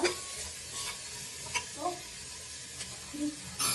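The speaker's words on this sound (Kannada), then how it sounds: "ಹಸಿ ಬಟಾಣಿ ಹಾಕ್ತಾ ಇದ್ದೀನಿ. ಇಷ್ಟನ್ನು ಸ್ವಲ್ಪ ಫ್ರೈ ಆಗಲಿ." Fresh green peas frying gently on a low flame while being stirred, a soft steady sizzle with occasional scrapes and light clinks of a utensil against the pan, quiet and close.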